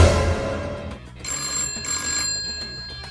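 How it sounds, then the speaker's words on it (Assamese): A cartoon telephone rings with a bright electronic trill that starts about a second in and repeats steadily over a low background, with no voices. "তোৰ তাতে কেনেকে ফোন বাজি আছে ৰিচিভ কৰ এতিয়াই"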